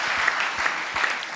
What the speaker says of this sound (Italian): Bene, un applauso per Enrico Casati.